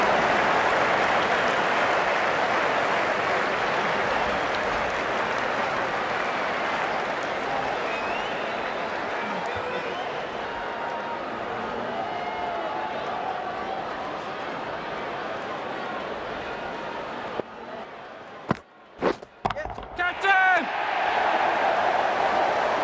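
A video-game stadium crowd at a Cricket 19 England versus South Africa World Cup match applauds and roars steadily after a big hit, the broad clapping noise sustained for most of the stretch before breaking into brief bursts near the end.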